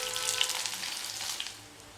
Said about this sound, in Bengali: এখানে আমি 2 টেবিল চামচের মতো পেঁয়াজ কুচি দিয়ে পেঁয়াজটাকে হালকা একটু ভেজে নিচ্ছি